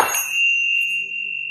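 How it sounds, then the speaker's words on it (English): A single bright Tibetan bell strike rings out and sustains a clear, pure tone that slowly fades, close and alone. "I also found these Tibetan bells,"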